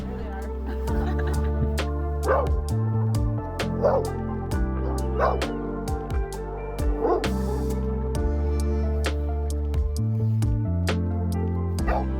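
A dog barks and yips repeatedly on a sailboat at anchor, the short bursts recurring every second or two over steady background music and ambient noise.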